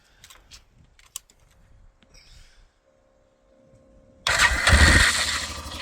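After a few quiet clicks and a soft whir, the engine of a 2016 Arctic Cat 500 EFI fitted with a new starter motor cranks and catches abruptly, then runs loud and steady at idle, close by.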